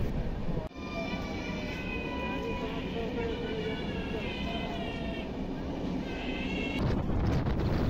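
A long-distance passenger train on the Warangal to Prayagraj route runs with a constant loud rumble and rushing wind buffeting the microphone, a steady roar that barely changes over the whole stretch.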